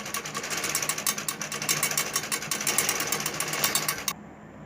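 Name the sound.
sewing machine stitching a dori loops neck design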